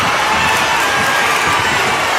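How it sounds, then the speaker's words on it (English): A capacity arena crowd in the WWE 2K25 wrestling game roars and cheers in a dense, continuous wall of noise, loud and unbroken throughout. "With every move you make, you hear this capacity crowd following you on that journey"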